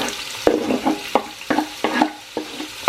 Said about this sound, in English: now we can go ahead and start dropping in our tomato and our onion.